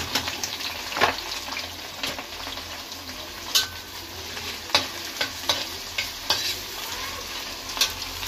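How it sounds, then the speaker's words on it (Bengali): Chopped onions and green chillies fry in hot mustard oil in a wok, giving a steady close sizzle broken by repeated sharp scrapes and clinks of a spatula stirring against the pan, with no talking. "তেলটা গরম হয়ে গেছে, এর মধ্যে পেঁয়াজ আর কাঁচা লঙ্কাটা দিয়ে দেবো।"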